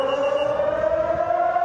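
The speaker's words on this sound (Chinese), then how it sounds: "在演习期间，如果听到防空警报的声音" An air raid siren sounds during a civil defense resilience drill that extends into a shopping mall, a steady sustained wail with a slight rising pitch, loud and continuous throughout.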